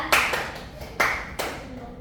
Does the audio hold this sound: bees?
no